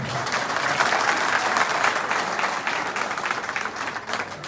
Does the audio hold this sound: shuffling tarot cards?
no